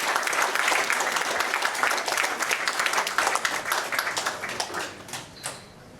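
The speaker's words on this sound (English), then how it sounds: "let's have a spotlight and applause as Mike comes on stage" Audience applause at a foundation dinner, a dense steady clapping from many people in a room, loud at first and thinning out toward the end.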